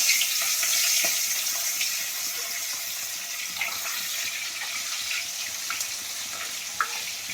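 Tilapia fish frying in hot oil, a continuous bright hiss and crackle with scattered pops, steady and close throughout.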